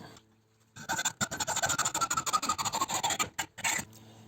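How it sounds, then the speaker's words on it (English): A die from a tap and die set cutting a thread makes a dense, rapid rasping scrape that runs for about three seconds, breaks off briefly, then returns for a short burst, close and fairly quiet. "screw it on. I screw that on as tight as I can."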